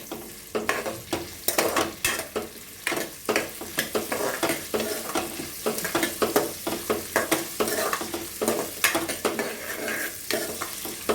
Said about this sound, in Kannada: ಈರುಳ್ಳಿ ಸ್ವಲ್ಪ ಫ್ರೈ ಆಗಲಿ ಫ್ರೆಂಡ್ಸ್.